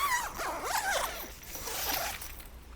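The full-length zipper on the door of a Hilleberg Helags 2 tent is pulled along in a quick series of close, scratchy zips lasting under three seconds and trailing off at the end.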